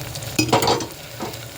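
Chopped tomatoes dropped into sautéing onions for a mushroom masala, a sudden burst of sizzling and stirring scrape in a hot pan, fading to a gentler fry with another brief stir.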